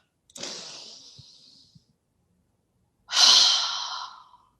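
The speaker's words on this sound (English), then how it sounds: "I can sort myself out in like just 2 big full breaths." Two big, full, deep breaths taken as a breathing technique: a long airy exhale, a pause, then a louder and stronger breath, close and alone with no talk.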